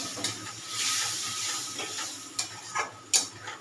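Spice paste fries with a splash of water for a cauliflower malai curry, giving a soft steamy hiss punctuated by a few sharp stirring clinks.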